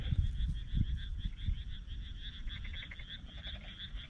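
Frogs croak in a field after rain, a dense chorus of repeated rhythmic calls in the background, with low thumps and handling noise close by.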